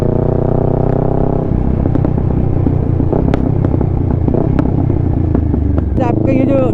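A Kawasaki Ninja 650 with a full-system Mivv exhaust idles loudly up close, with a throaty, pulsing tone, then blips and revs with sharp crackles, while someone talks over it.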